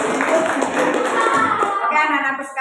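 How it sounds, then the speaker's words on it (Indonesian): Applause breaks out in a high school classroom after a student group presentation, with scattered hand clapping blending with a mix of children's voices throughout. "Tepuk tangan dulu dong."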